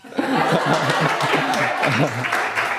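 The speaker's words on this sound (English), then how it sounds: "feel free to applaud" Audience applause following a research presentation that doubles as a performance at a student fellows event, a steady dense wash of clapping mixed with laughter and voices, close and loud throughout.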